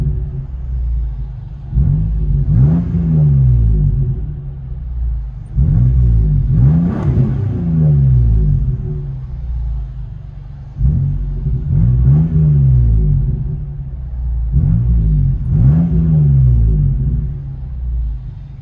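From inside the cabin, a straight-piped Nissan Xterra with quad tips rumbles at idle and surges through four separate revs that rise and fall, leaving a deep, boomy drone between the pulls.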